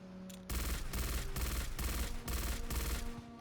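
Rapid bursts of automatic fire from the LEM StG24 storm rifle in the game Aliens: Fireteam Elite, loud and close, in several sustained volleys broken by short pauses, with no voice over them.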